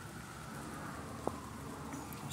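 Steady rain falls outdoors around a 1973 International Travelall, a continuous soft hiss with one brief sharper tap partway through and no speech.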